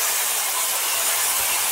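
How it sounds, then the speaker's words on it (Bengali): Taro leaves tossed into a hot pan of fried whole cumin, giving a steady broadband sizzle that holds at an even level throughout with no voices. "গোটা জিরেগুলো লাল লাল করে ভেজে নেওয়ার পর ওর মধ্যে দিয়ে দিচ্ছি কচুর শাকগুলো"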